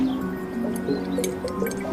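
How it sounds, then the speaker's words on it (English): Water drains from an upper vessel through a pipe into a lower vessel, making soft, close gurgles, irregular drips and little bubbling squelches over a quiet, continuous trickle. "We can see the water is draining from this top vessel as fast as that pipe will carry"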